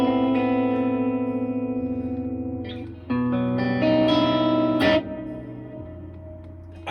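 Sustained electric guitar chords played through a reverb pedal ring out with a lush, lingering reverb tail, a new chord struck around the middle and another near the end.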